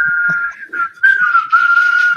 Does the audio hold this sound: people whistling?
yes